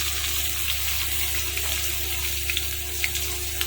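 Ginger garlic paste spluttering in oil with cumin seeds in a pan, a steady close hiss with scattered pops, over a constant low mechanical hum.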